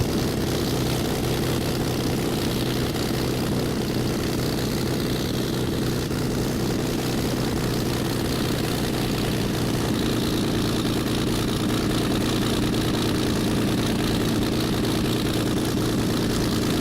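A Spitfire's piston engine taxiing in the FSX flight simulator, a steady loud propeller drone with a deep low rumble that holds constant throughout, with no talk over it.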